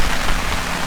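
Heavy rain pours steadily onto a tent during a roadside camping stop on a motorcycle trip, a dense close wash of drumming drops with no voices.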